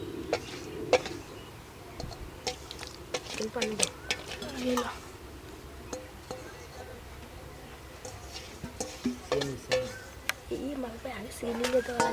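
Ripe fig (dumur) jelly mixture being stirred in a pot, with irregular clinks and scrapes of a utensil against the vessel and a faint sizzle underneath, while a person talks intermittently.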